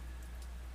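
Torrential rain pouring down in Lumiar, Brazil, a steady broadband hiss of heavy rainfall with no talk, at a low level throughout.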